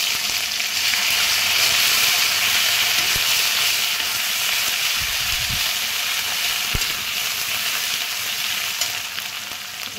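Garlic paste frying in hot oil with tempering spices in a pan, a steady loud sizzle and hiss throughout with a few soft stirring knocks, no voices.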